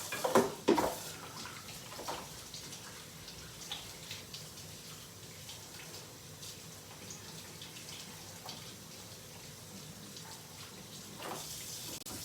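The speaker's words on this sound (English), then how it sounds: "let me wash my hands" A kitchen tap runs while hands are washed, a steady soft water hiss with a few louder splashes at the start and near the end, moderately close.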